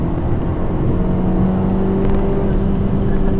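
Honda Civic Type-R FK8 engine pulling hard under acceleration, a steady droning hum from inside the cabin with rising tone and no talk over it.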